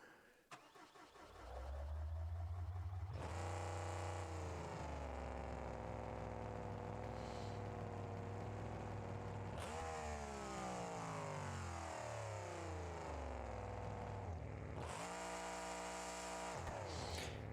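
A monster truck engine in BeamNG.drive, with no wheelie bar fitted, cranks and roars to life, then holds a loud, steady drone with several surges in revs and no talking.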